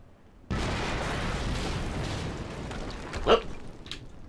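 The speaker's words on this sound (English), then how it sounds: "we just heard an explosion near the harvesting perimeter" An explosion in the video game Quantum Break erupts suddenly into a broad, loud rumbling roar that sustains for several seconds, with a sharper burst flaring near the end.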